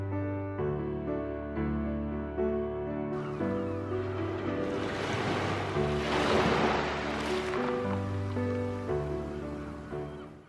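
Ocean waves break and wash onto the beach at Lyme Regis, Dorset, at sunrise, a surge of surf swelling in the middle over a steady tonal drone from the recording.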